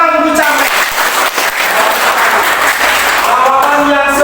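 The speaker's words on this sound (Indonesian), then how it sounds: "tepuk tangan untuk Charles" Classroom applause for a student during a maths lesson, a steady dense patter of clapping filling the room throughout, with a teacher's voice heard over it at the start and end.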